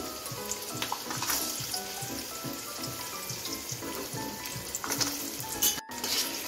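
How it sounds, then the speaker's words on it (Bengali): Vegetables, including carrot, fry in oil left from frying cashews and raisins, on lowered heat, with a steady, close sizzle, broken by occasional stirring clatter and a brief gap near the end. "আমি কাজু কিশমিশ ভাজার তেলেই সবজিগুলো ভেজে নেব"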